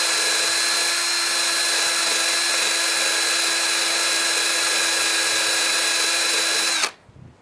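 Steady, loud high-pitched hiss of a pressure washer blasting carbon off a 1988 Jeep XJ cylinder head, running continuously with a constant whine before cutting off abruptly near the end.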